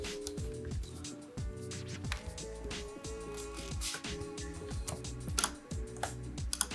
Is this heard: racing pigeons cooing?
no